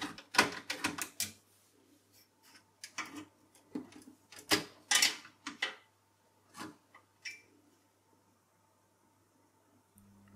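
Four Torx screws being undone to free the heatsink of an HP ProDesk 600 G1 SFF desktop: close, sharp clicks and scraping bursts in uneven clusters, fading to near quiet toward the end.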